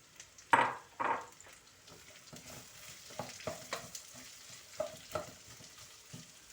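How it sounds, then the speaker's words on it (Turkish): Onions cooking in about a tea glass of vegetable oil in a pot, stirred with a few louder scrapes early on, then quieter intermittent stirring knocks over a low frying hiss. "bir çay bardağı kadar sıvı yağımızı ekliyoruz. Ve soğanlarımızı ilk önce sarartacağız."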